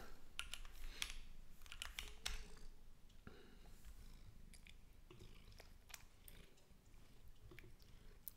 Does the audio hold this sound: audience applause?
no